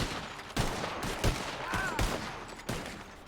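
Gunfire in the Red Dead roleplay game: a handful of sharp, irregularly spaced shots crack out over a steady background hiss, each one punchy and close.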